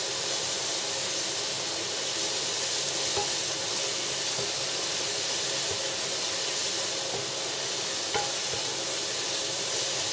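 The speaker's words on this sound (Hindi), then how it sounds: "यहाँ हम इसको ब्राउन होने तक भूनेंगे।" Food frying in a pan for chicken vegetable pasta, a loud, dense, continuous sizzle and hiss that holds steady throughout, with only faint stirring scrapes and no speech.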